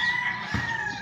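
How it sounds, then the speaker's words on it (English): A white cane cock rooster crows briefly outdoors, its loud drawn-out call filling the short moment on its own. "See that white rooster? That cane cock rooster."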